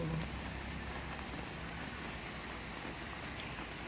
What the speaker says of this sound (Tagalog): Ayan, maulan na naman.